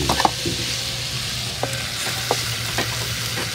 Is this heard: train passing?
no